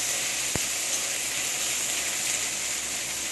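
Onions frying in a pan ahead of a spinach dish, a loud, even sizzle and hiss running throughout, broken only by a single sharp click early on.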